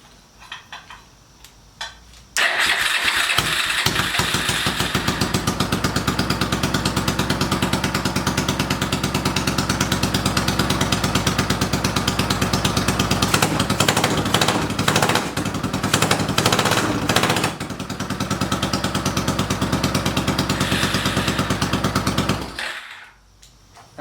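An 800cc engine on a homemade monster tractor, running on gasoline, fires up after a few seconds and runs loud and close with a rapid, rough thumping beat for about twenty seconds before shutting off.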